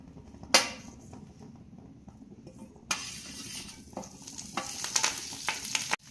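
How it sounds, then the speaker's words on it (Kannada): Oil going into a frying pan while making peanut chutney powder: quiet at first, then a sudden bright sizzle that keeps crackling and popping, with a few light metallic clinks. "ಈಗ ನಾನು ಸ್ವಲ್ಪ ಎಣ್ಣೆ ಹಾಕ್ತಾ ಇದ್ದೀನಿ ಬಾಣಲಿಗೆ."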